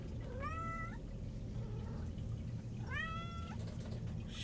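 Two meows from a cat in Skyrim, each clear and drawn out, with a pause between them, heard over a steady low hum.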